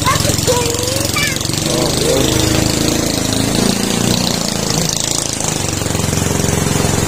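Motorcycles gather on a bridge during a flood in heavy, nonstop rain, their engines making a steady, loud, close mechanical drone under the wash of rain, with a brief spoken word.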